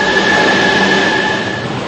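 An Istanbul metro train on the Başakşehir line rumbles loudly and steadily, with a sustained high whine from the wheels or motors and no voices.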